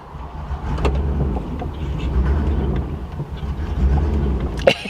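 A 1998 Ford Explorer drives along with a low engine rumble and road noise, wind buffeting the microphone, and a few brief knocks and clatters, with no one talking.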